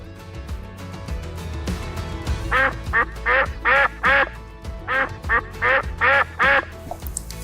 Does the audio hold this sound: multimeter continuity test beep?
no